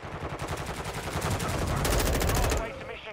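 Steady rapid automatic fire from an M4 rifle in Call of Duty: Modern Warfare 2 multiplayer, with close, loud, evenly spaced shots continuing throughout before cutting off near the end.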